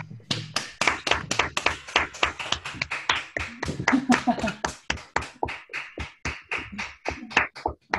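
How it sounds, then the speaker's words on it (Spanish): A small group of caregivers and residents at a care home claps over a video call, with distinct, closely spaced individual claps in a loose rhythm, some voices talking intermittently beneath them. "vamos a darles un aplauso a nuestros cuidadores, a nuestra infantería"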